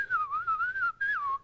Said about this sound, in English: We whistle our cows